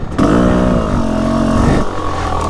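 A GasGas 125 two-stroke dirt bike fitted with an FMF Fatty exhaust revs up sharply and holds a loud, buzzing high-pitched note before dropping back, very close and alone.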